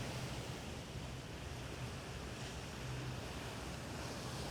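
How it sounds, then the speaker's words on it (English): Sea waves wash and churn below a boat on the Aegean Sea, a steady broad rushing hiss mixed with wind and no voices. "While the waves move below, the distant realms of the horizon create a feeling of stillness."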